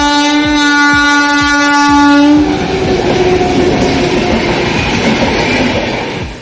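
A train pulls in with a loud, sustained horn blast lasting a couple of seconds, then the heavy rumble and rattle of the passing carriages continues close by.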